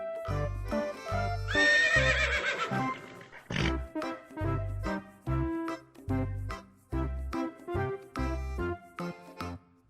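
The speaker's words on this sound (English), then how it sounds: "Horse." A horse lets out a loud, shrill whinny that wavers and trails off, alongside heavy rhythmic thumps like hoofbeats or snorts running through the whole stretch.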